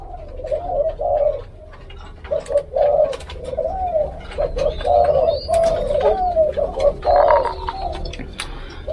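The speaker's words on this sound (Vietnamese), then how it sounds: "Còn cái cặp này là cặp cu đất, chim con mình nuôi lên nè." Spotted doves in a breeding cage give soft, repeated rolling coos in a loose rhythm, close by, with light clicks and rustles between calls.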